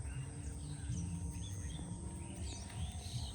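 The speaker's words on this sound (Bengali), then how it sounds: "পাখি, আহা কি যে শোভা," Birds sing outdoors on a morning in open countryside, with several bright chirps and trills rising over a steady low rumble of distant background noise, with no voices.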